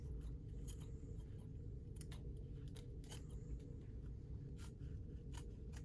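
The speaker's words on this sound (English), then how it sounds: "Trim the straps." Scissors trimming the straps of an ulnar gutter splint made from casting tape, a series of faint, irregular snips and crisp clicks over a low steady room hum.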